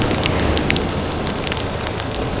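Steady rain hiss while riding a Honda CB300R motorcycle to work, a dense constant wash of raindrops and wind noise across the microphone, loud and unbroken, with no voices.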